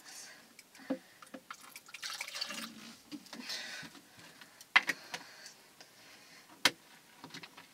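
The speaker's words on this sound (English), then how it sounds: "I'm going to get a cup. We're going to put some apple juice." Apple juice pours into a cup in a short, quiet trickle, with light drips and a few small clinks around it.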